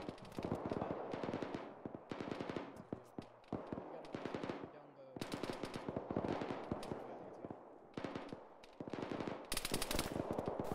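A BTR armored vehicle's gun fires in rapid bursts in a military video game, a long string of sharp cracks with brief pauses between bursts, with voices talking underneath.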